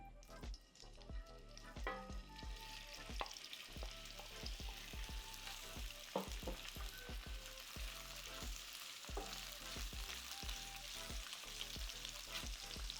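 Octopus pieces searing in hot oil in a pan for Spanish tapas, a loud steady sizzle with many sharp pops, crackles and clatters throughout, no talking.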